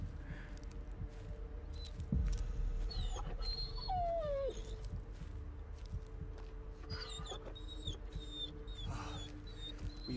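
A dog whimpers and whines in the Blair Witch horror video game, with thin high-pitched cries and a falling wail rising over a steady low ambient hum, the whimpers coming in short scattered bursts.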